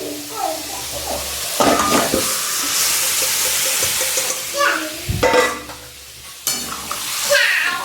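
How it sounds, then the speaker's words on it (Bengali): Boiled drumstick, potato and eggplant stir-fried in a pan, with a steady sizzle broken by several louder scraping stirs close by, and faint voices now and then in the background. "এবার ওই সেদ্ধ করা ডাঁটা আলু বেগুন এটা আমি দিয়ে দেবো।"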